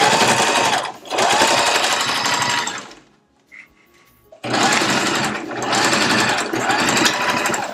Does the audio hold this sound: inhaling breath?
no